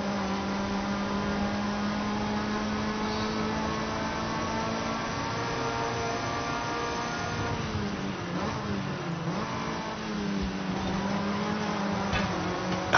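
Engine of a 2016 Mazda MX-5 ND in a racing game, a steady droning hum that dips and wavers briefly mid-clip as the gear shifts, then settles back to an even pitch, loud and continuous with no talking.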